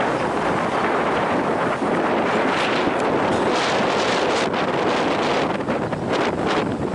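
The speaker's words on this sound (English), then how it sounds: "Very windy today." A strong wind roars across the microphone on a clear, sunny 71-degree June evening, a continuous loud buffeting rush with gusty swells and no speech.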